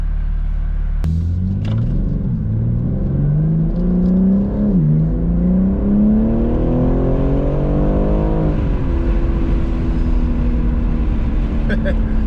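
BMW G80 M3 Competition engine revving hard while driving, a loud close-in rising engine note climbing through the revs, dropping, then climbing again under a steady road rumble, with no talk.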